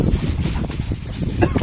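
Steady wind roars and buffets the microphone out on open water, with a low rumble underneath and no clear voices.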